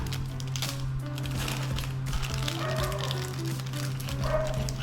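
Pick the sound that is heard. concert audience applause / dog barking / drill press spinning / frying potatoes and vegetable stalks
dog barking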